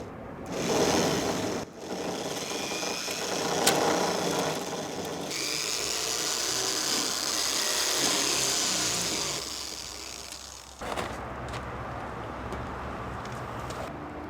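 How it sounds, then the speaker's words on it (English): A power drill whines steadily as it bores through a metal bracket, stopping briefly, then resuming before a final pause; close and fairly loud. "then you drill the hole in the bracket and then put a screw in them"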